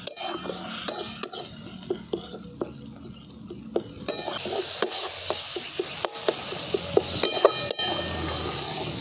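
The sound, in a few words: spice paste being stirred and fried in a pan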